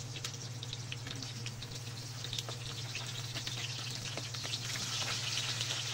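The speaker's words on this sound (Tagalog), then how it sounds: "Yan guys, magprito na tayo. Gamitan na natin ng used oil yan." Bangus milkfish frying in used oil, a faint, steady crackling sizzle with scattered pops throughout, close by and without voices.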